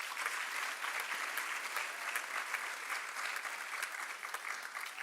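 An audience applauding after a Bharatanatyam arangetram dance performance, a sustained even wash of many hands clapping, faint and distant, with no talk over it.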